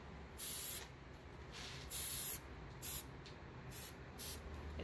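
Spray paint hisses onto a storm door with a baked-on factory finish in a light coat: about five short, steady bursts separated by brief pauses over a low background rumble.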